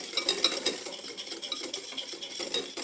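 A large whisk scrapes and clinks around a bowl of chocolate fondant batter, a quick irregular run of metallic taps and swishes, close and moderately loud, with no talking.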